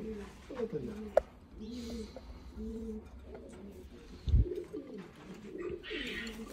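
Chinese Teddy pigeons in a breeding loft coo repeatedly in soft, rolling calls close by, with occasional wing flutters and a voice speaking faintly beneath.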